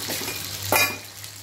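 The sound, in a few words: pomfret fish frying in a pan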